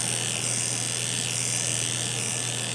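Electric grooming clippers fitted with a 1.25 inch comb attachment buzz steadily and close, a constant high-pitched hum with no pauses.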